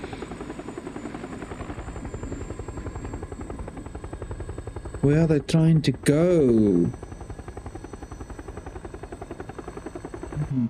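A helicopter in PUBG Battlegrounds beats with a steady, rapid rotor chop throughout, while a commentator talks over it in the middle.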